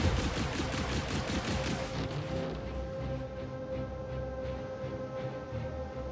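Rapid ship weapons fire rattles in Star Citizen, a dense, continuous burst of shots that eases into a steady hum with lingering impacts.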